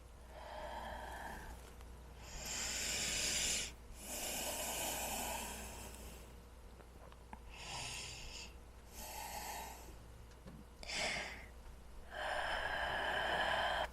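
Slow, deep breaths during a wide-leg forward fold yoga stretch: long airy inhales and exhales come one after another, close and fairly loud, with short pauses between them and no talking.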